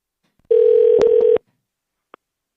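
A single steady telephone dial tone on a radio show's call-in phone line sounds for nearly a second, with a few clicks over it, then stops, followed by silence and one faint short beep.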